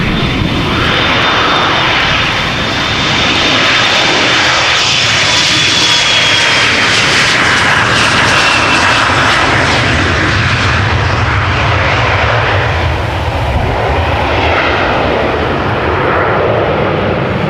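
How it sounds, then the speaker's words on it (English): An Embraer 175 jet departs Amsterdam Schiphol bound for Stavanger, its engines roaring loud and close in a sustained wash with a high whine sliding downward as it passes. "Embraer 175 to Stavanger"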